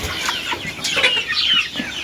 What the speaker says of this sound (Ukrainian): Тому що курка повинна гребтися.